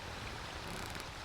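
Steady broadband rush of a forest stream flowing, a continuous close wash of water with no voices.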